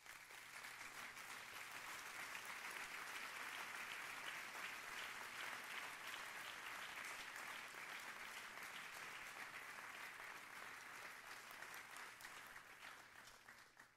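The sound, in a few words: applause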